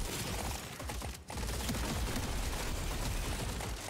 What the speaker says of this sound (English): And guys are shooting at me now, which I don't like.